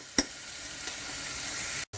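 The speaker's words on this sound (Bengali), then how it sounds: "এই দেখো আমার পেঁয়াজটা ভাজা হয়ে গেছে" Onions frying in a pan on a home stove, a close, steady soft sizzle with one sharp clink near the start and a brief dropout near the end, no talk.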